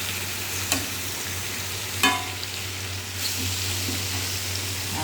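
Food stirred and mixed in a sizzling frying pan, a steady close frying hiss with a low hum beneath and a few soft spoon scrapes and taps against the pan.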